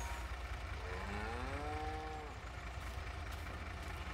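Cattle lowing in the farming video game Farming Simulator 22, one drawn-out moo rising and falling over a steady background engine drone.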